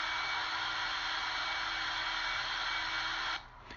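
A vacuum cleaner runs over a freshly puttied cork tile floor, giving a loud, steady motor whine and airflow hiss that cuts off abruptly just before the end.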